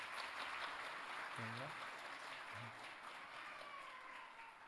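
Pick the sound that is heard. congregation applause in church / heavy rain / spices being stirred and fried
congregation applause in church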